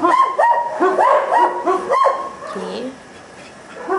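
A dog barks in a quick run of yips and bow-wows, loud and nearby, with a person mimicking the barking, followed by a quieter stretch and a few more barks.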